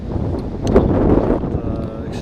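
Wind buffets the microphone at an outdoor football match, a steady low rumbling roar across the whole moment, swelling slightly midway.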